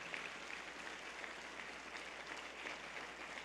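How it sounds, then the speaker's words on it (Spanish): A church congregation applauds loudly in praise during a sermon, a continuous wash of clapping that sounds distant and faint throughout. "Fuerte el aplauso"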